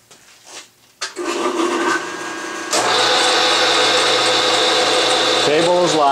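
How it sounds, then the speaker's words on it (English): A Bridgeport milling machine motor spins up and whirs steadily with a high grinding drone while center drilling holes, the pitch shifting near the end as the cut changes. "So I'm going to center drill four holes."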